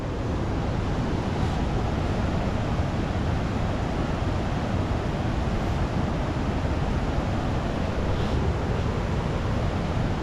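Fast-flowing mountain river water rushing during a 4x2 car water crossing on the Shinku La route in Zanskar, a loud, steady broadband roar filling the whole stretch with no voices.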